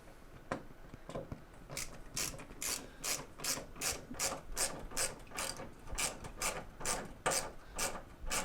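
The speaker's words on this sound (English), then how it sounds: "I like to take my lag bolt first and pop it in there" A ratchet drives a lag bolt into wood: a few slow clicks, then a steady run of rapid, evenly spaced ratcheting clicks, close and fairly quiet.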